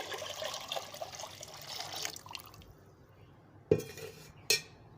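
A small amount of water is poured into a cooking pot while making a curry, a soft splashing rush for about two seconds that fades, followed by two sharp metallic clanks of the pot.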